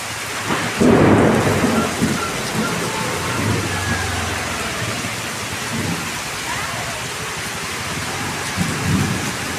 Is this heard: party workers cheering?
no